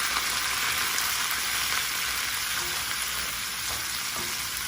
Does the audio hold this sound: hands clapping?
no